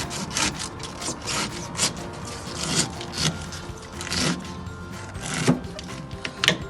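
A knife slices off the top of a globe artichoke, giving repeated short scraping, rasping cuts through its fibrous leaves, close and fairly quiet with no talking.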